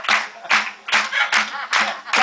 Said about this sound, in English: Single clap.